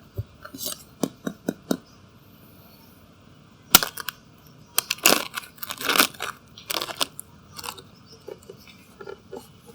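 A crispy whole roast lechon stuffed with breakfast fillings is split open, giving loud close crackles and sharp snaps of breaking skin, first in separate cracks and then in dense crunching bursts, with no talking.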